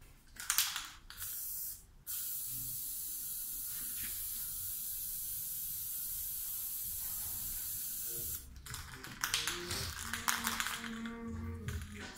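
An aerosol spray paint can hisses out a steady coat for about six seconds, framed by short bursts before and after and the rattle of handling, with no talking.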